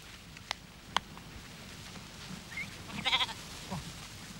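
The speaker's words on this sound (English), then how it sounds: "From mid-June onwards, the sheep are rounded up for shearing." Sheep on a family farm bleat while being rounded up for shearing in mid-June, a few short cries near and far over quiet outdoor ambience, with a louder cluster of bleats toward the end.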